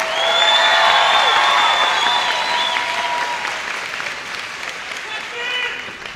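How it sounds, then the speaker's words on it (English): A graduation crowd at Hamtramck High School claps loudly for a student speaker, sustained dense applause with a few cheers that slowly tapers over several seconds, with some voices mixed in. "Let's give Ahmed another round of applause"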